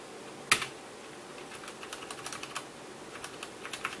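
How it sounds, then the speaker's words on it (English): Keystrokes on a Velocifire TKL01 budget mechanical keyboard, a sharp initial clack followed by irregular, fairly quiet typing taps scattered close up with no voices. "the keyboard feels great and it sounds great"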